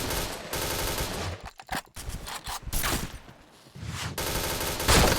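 Rapid video-game gunfire crackles in dense bursts of chained headshots, with short pauses between volleys and a final loud burst, with no talking.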